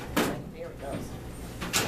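A medication cart is shut and locked, giving two short, fairly loud clunks near the start and end with a quieter stretch of handling noise and faint voices between.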